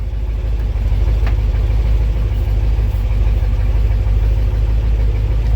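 The engine of a 1959 Ford F-100 pickup, run after sitting for a year, rumbles loud and steady at close range, with a deep, continuous drone and no talk.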